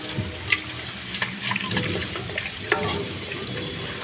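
Tap water runs into a kitchen sink as dishes are washed, a steady splashing wash with scattered clinks and knocks of crockery, close and moderately loud.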